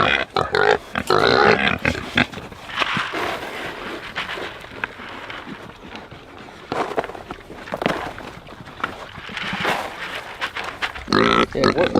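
Pigs on a homestead grunting and snuffling while eating feed mixed with turkey broth, a busy close-up chorus of short grunts with a voice talking over parts of it.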